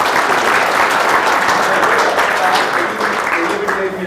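An audience at a talk applauds with dense, sustained clapping that stays loud and close, then thins slightly toward the end.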